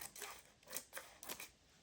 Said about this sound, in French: on peut même couper ici le plastique qui n'est pas collé